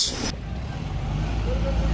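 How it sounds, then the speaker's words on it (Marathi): Heavy road traffic on the way to the Mahakumbh at Prayagraj: a steady, close low rumble of truck engines and idling vehicles, with a few faint high beeps near the end. "खूप ट्रॅफिक आहे गाईस."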